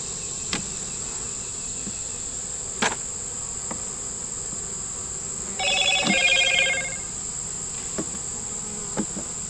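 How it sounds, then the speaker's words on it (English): A new phone ringer chirps in a short trilling burst amid a loud, steady hum of buzzing insects outdoors, with a few faint clicks scattered through. "See, I got a new phone with a new phone ringer."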